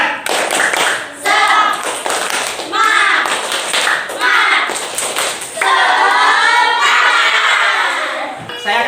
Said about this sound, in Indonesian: Oke, kita tepuk semangat dulu.